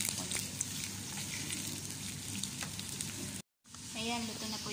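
Smoked chicken frank hotdogs fry in olive oil, heard as a loud, dense, crackling sizzle up close that cuts out briefly and then resumes, with no talking.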